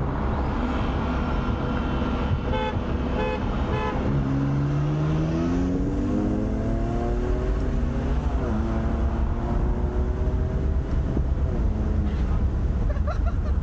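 A BMW with the N54 engine revs up and launches hard from a standstill with traction control off, a loud continuous engine roar rising and shifting in pitch, with faint voices underneath.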